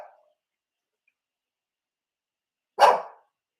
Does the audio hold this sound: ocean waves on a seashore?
no